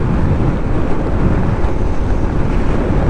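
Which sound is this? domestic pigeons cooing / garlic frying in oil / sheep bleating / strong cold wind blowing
strong cold wind blowing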